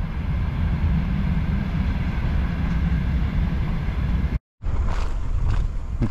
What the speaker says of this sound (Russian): Очередной поезд проезжает.